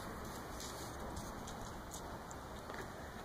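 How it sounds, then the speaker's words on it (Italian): Steady, even patter of rain falling, a constant hiss with no voices or other sounds. "piove."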